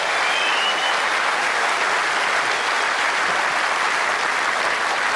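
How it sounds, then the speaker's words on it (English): Sustained applause from a large crowd at a grand final breakfast event, a dense, even wash of clapping that holds steady and loud from start to finish. "Give them another round of applause"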